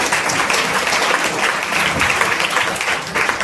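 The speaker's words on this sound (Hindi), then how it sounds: "ताली बजाओ, ताली करो।" An audience applauds at a church service, with a dense, steady wash of many hands clapping that continues evenly throughout, loud and unbroken.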